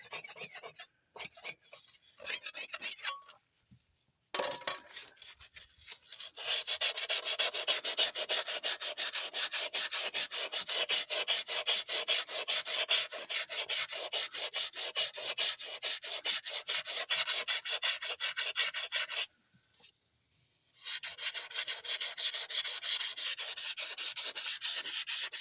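Steady rasping scrub of a wire brush or abrasive working rust off a truck axle during an Eaton 16244 axle seal repair, continuous close strokes broken by two brief pauses.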